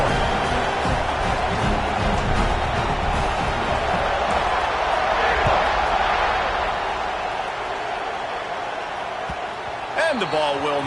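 Football stadium crowd buzzing after a touchdown, a broad, steady roar of many voices sustained throughout, with a commentator talking over it.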